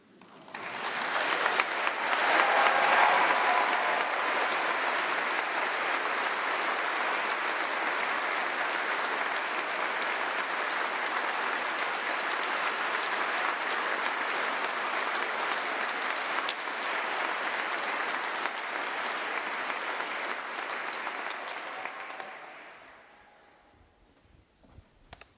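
A large graduation congregation crowd claps in a long sustained ovation after a speech, dense and even for over twenty seconds before dying away to quiet at the end.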